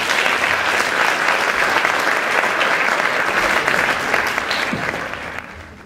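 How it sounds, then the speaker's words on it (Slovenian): Loud, steady audience applause fills a sports awards ceremony honoring the athlete of the year in Brežice, welcoming the president of the local sports association to the stage, then gradually thins and fades toward the end. "tako da dajmo en velik aplavz, gospod Stane Tomše"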